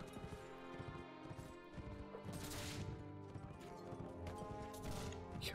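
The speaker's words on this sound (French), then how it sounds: "Il y a plein de chevaux." Many horses galloping in the Mount and Blade: With Fire and Sword video game, a dense, continuous clatter of hoofbeats with occasional crashes mixed in, fairly loud and busy throughout.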